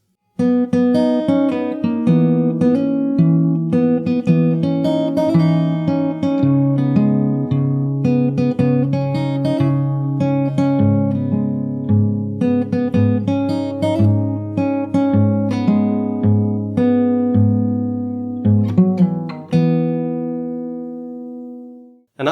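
Solo fingerstyle acoustic guitar plays the chorus of a song, a steady stream of plucked bass notes and melody over about twenty seconds, ending on a final ringing chord, close and clear with no voices.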